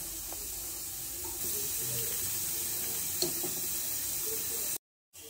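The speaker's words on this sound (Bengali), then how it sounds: "এবার আমি যে চালটা আধ ঘন্টা ভিজিয়ে রেখেছিলাম সেটা এর মধ্যে দিয়ে দিচ্ছি" Soaked rice tipped into a pot of water for Hyderabadi mutton dum biryani makes a soft, close watery rush and hiss, faint and steady, cutting out briefly near the end.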